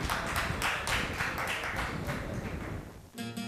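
An audience at a Sindhi stage performance claps in a dense, steady burst of applause that fades near the end, with no talking over it.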